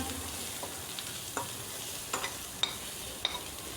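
Ground spice paste with a bay leaf stir-fried in oil in a pan, a soft steady sizzle punctuated by several brief spatula scrapes and taps.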